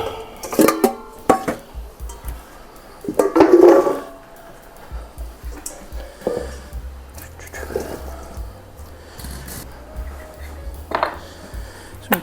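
Dishes and a bowl clink and clatter in a home kitchen as a larger mixing bowl is pulled out for a roasted sweet potato, garlic and cauliflower soup, with a few sharp knocks amid soft background noise and faint murmuring.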